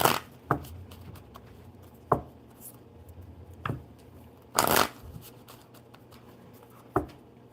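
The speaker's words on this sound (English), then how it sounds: "we can absolutely pull some cards for your mom." Tarot cards are shuffled in short riffles, about six quick papery bursts spaced a second or so apart, close and crisp, with one longer flurry midway and quiet room tone between them.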